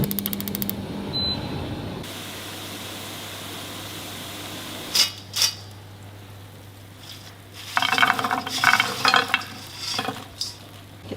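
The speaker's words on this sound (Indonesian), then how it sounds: "Kita menggoreng makanan" Quiet hiss of food frying in a pan, with occasional louder bursts of sizzling and crackling; no talking.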